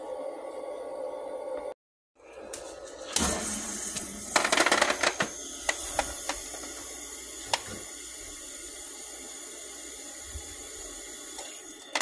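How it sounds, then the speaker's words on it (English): Water trickles steadily into the tray of an ice maker, a continuous close wash of splashing broken by a brief silent gap, then scattered clicks and taps over the running flow. "That fills up with water."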